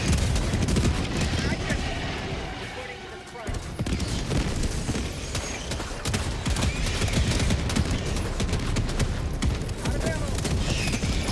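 Sentry turrets in Helldivers 2 fire near the extraction point, producing a dense, continuous barrage of rapid gunfire and booms that runs the whole time, with one brief lull around the third second.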